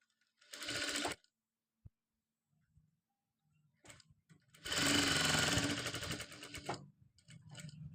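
A sewing machine stitches lining cloth onto a long designer gown, running in two loud bursts, a short one near the start and a longer steady run later, with quiet handling noises between.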